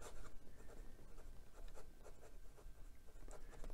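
An extra fine nib on a glass dip fountain pen scratches across paper in short repeated strokes, a close, faint, dry rasping with a steady rhythm and no voices.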